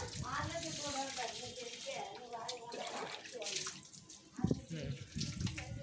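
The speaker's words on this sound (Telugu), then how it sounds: "నీళ్ళు పోస్తున్నాం" Water splashes and pours over a Rottweiler being bathed, a close, steady gushing with a sudden heavier splash near the end and voices faintly underneath.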